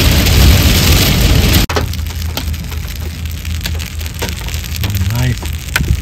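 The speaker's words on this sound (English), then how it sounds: "The rain's coming down now." Steady rain pours down during a New Mexico storm, a dense continuous hiss, likely striking a car, with a sharp cut partway through and brief speech-like sounds mixed into the downpour.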